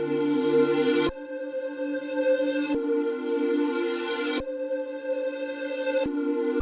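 A slow pluck synth melody played at half speed in reverse with sidechain, each note swelling upward and then cutting off abruptly, with four notes in a pulsing pattern.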